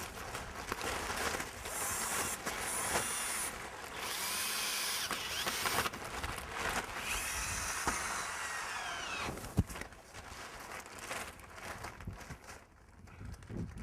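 Power drill driving a screw and washer through tarp on a hoop pen frame outdoors, a busy whirring drone with short bursts and pauses, plus faint clatter and rustling of the sheeting, heard nearby.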